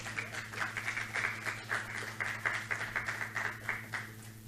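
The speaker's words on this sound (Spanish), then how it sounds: "La recibimos con un aplauso, por favor" Audience applause welcoming a genetics doctor from the National Children's Institute of San Borja to a talk, steady moderate clapping from a seated crowd with a low steady hum underneath.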